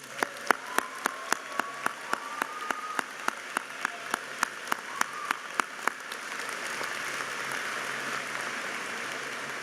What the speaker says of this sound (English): One last applause.